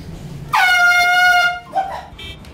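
A vehicle horn sounds during a GTA V stunt race, one loud sustained blare lasting about a second, followed by a shorter, softer honk, over quiet game background.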